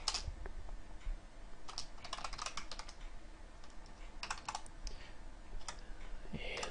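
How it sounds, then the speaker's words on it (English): Typing code on a computer keyboard: rapid irregular clusters of close, crisp key clicks with brief pauses between bursts. "Now let's write out some code really quickly to write this to a file."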